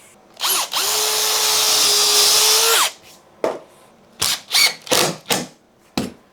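A power drill whines at high speed for a couple of seconds, then several short bursts of drilling with a worn-out drill bit follow, with brief pauses between them.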